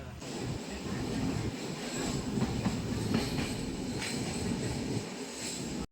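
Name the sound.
passenger train running on rails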